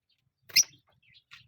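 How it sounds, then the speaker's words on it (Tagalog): Pet birds giving a single sharp chirp up close, followed by a few soft faint twitters in an otherwise quiet room. "Tignan natin yung ibon natin."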